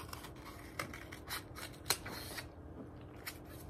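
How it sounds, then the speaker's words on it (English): Scissors snip through a cardboard toilet paper roll in a string of close, quiet, crisp cuts at an uneven pace, with no talk. "Your parents are going to cut the toilet paper roll into 1."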